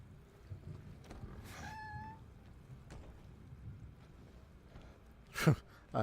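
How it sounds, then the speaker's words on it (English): A creaking door swings open in the Silent Hill 2 Remake hospital, its drawn-out squeal rising in tones much like a cat's meow, heard once in a quiet space before a couple of louder thuds near the end. "It sounded like a cat. The way that door opened."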